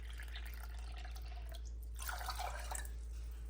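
Water is poured into twice-washed rice in a saucepan, a faint close trickle and splash with soft dripping over a low steady hum.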